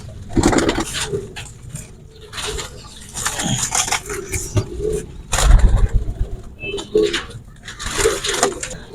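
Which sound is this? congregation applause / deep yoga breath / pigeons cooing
pigeons cooing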